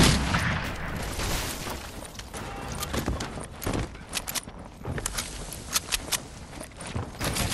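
Gunfire in the Fortnite video game, starting as a busy blur of noise and turning into a run of sharp, close shots in quick succession during the second half.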